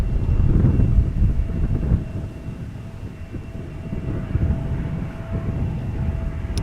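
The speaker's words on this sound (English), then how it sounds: "the next airplane is going to the threshold for its takeoff" An airplane taxis toward the runway threshold for takeoff at Amsterdam Schiphol Airport, its engines a steady low rumble at a distance, mixed with some wind buffeting on the microphone.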